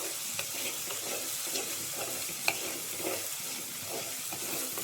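Sliced onions sautéing in a pan for a cucumber and dal curry, a steady soft sizzle with occasional light scrapes of stirring and a faint tap near the middle.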